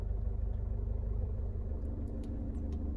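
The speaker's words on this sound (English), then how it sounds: "slowly lift the clutch up and the car will slowly go" A car's engine rumbles low and steady as the clutch is slowly lifted to pull away, a faint, continuous hum with no talking.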